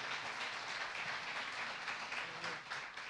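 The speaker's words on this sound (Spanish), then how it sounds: "le dan un aplauso muy grande al par de autores" Fairly faint, even applause from an audience at a book fair session for a pair of authors, continuous throughout with a slight dip near the end.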